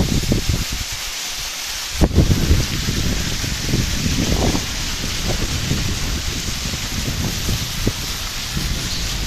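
Heavy rain pours down in Bhagamandala beside a flooded road, a loud, steady downpour hissing and spattering on surfaces without pause for several seconds.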